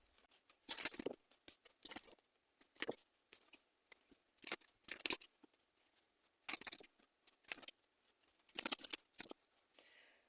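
Tarot cards being shuffled and drawn, crisp papery flicks and riffles coming in short bursts with pauses between, close and fairly quiet with no talk.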